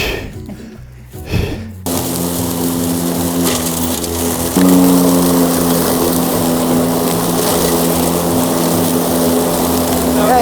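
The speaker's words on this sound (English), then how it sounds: "It's definitely not my best mowing job" An electric-converted lawn mower runs steadily while mowing a yard, its continuous whirring drone loud and close, rising slightly in pitch partway through after a brief quieter start.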